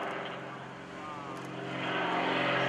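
Aerobatic propeller plane, flown by Gary Ward at the 2013 Greenwood Lake Airshow, droning steadily overhead while inverted, its engine tone rising and growing louder toward the end, with commentary voices mixed over the sound.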